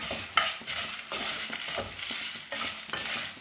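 Masala for egg curry fries in oil in a pan, a loud close crackle with rhythmic stirring scrapes about every half second and no voices.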